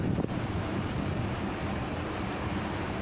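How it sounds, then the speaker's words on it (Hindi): Rainwater rushes along a street in Jeddah's main mobile market after the rain has stopped, a steady broadband wash of flowing water with no pauses and no voices. "अभी बारिश रुकी हुई है लेकिन पानी चल रहा है।"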